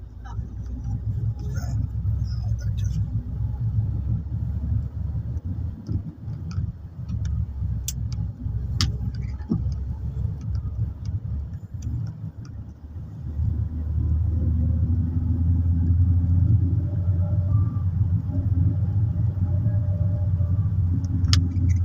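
A manual transmission car idles and rolls with a low, steady engine rumble during a driving lesson, then the gas pedal is pumped and the engine grows louder and fuller, holding that raised drone to the end.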